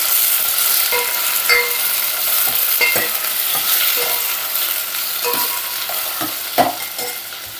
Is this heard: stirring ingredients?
yes